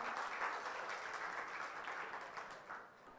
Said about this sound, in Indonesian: Boleh tepuk tangannya untuk kita semua.